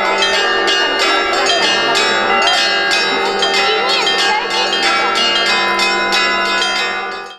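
Festive church bells ring steadily and loudly at a parish feast, overlapping peals sustaining throughout, with no voices heard.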